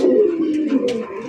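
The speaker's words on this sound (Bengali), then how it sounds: "সাউন্ডটা শুনে অ্যাক্টিভনেস দেখান দুইটা কবুতরের" Two pigeons cooing close by in a continuous low, throaty burble, with brief soft rustles over the top.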